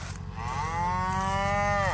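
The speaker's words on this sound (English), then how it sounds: "Moo cows." Cattle in a farm field let out one long, loud moo that rises and holds close by, with the steady rumble of farm machinery behind it.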